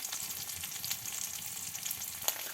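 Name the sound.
frying spice paste in oil for Malabar spinach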